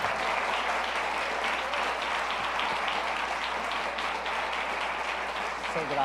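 A church congregation at an anniversary celebration service applauds, a loud, continuous roar of many hands clapping that holds steady throughout, with faint crowd voices mixed in.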